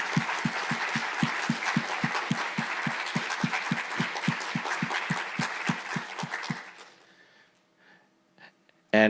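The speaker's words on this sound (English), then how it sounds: "Let's give them a round of applause." Applause at a data science summit: close, evenly spaced claps beat steadily for about seven seconds, then fade into near silence with a few faint stray sounds.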